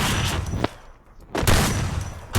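Gunfire in a first-person shooter video game, with two loud bursts of rapid shots separated by a brief lull.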